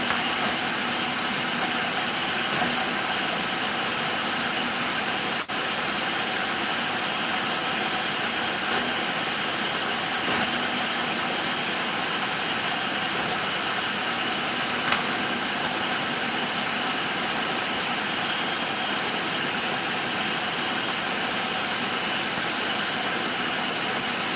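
Walnuts being chopped in an electric chopper, a steady motor whir with a faint rattle that runs unbroken for the whole stretch, fairly loud and close, with no talking.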